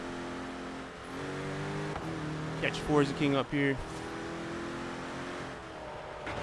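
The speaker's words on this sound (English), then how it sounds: "What do you think about this Red Bull car? Sometimes I drive better in first person. This car sounds really good." Red Bull car engine in the racing video game Forza Horizon 3, a steady mid-pitched drone with a brief burst of revving near the middle, running under continuous close talk.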